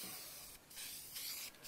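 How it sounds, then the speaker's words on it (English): A spray paint can sprays a finish onto kitchen cabinets in short close hissing bursts, two brief pauses breaking the steady spray, with no talk over it. "shake it up real good and just spray"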